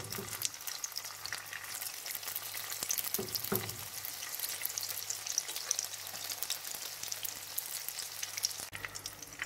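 Homemade Chinese spring rolls frying in hot oil, giving a steady, loud, crackling sizzle throughout with a few brief clinks as they are turned.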